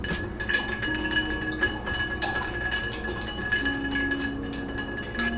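Ice cubes clink and rattle against glass while a White Russian cocktail is mixed, with irregular light tinkling knocks throughout and no voices.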